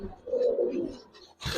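Giribaz and colored pigeons in a loft give a soft, low rolling coo lasting about a second, close by, followed by a brief rustle or flutter at the end.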